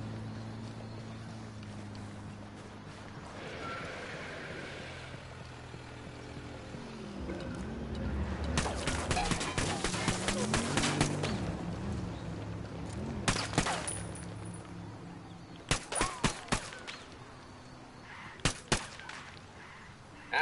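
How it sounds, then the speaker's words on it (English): Gunfire in the video game Ghost Recon Wildlands, sharp bursts and single shots crackling in separate clusters over a low vehicle engine drone. "Asshole heard the shot."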